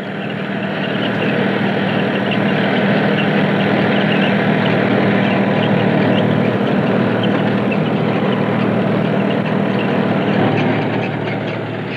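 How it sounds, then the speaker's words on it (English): A Standen sugar beet harvester with a powered cyclone cleaner runs in the Fens, giving a steady, loud mechanical drone of engine and moving machinery without a break. "The first stage of cleaning is the powered cyclone, which gives the machine its name."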